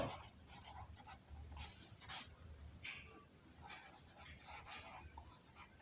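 Handwriting on paper during a math lesson, with soft scratching pen or pencil strokes in short irregular bursts and brief pauses, heard close and quiet with no talking.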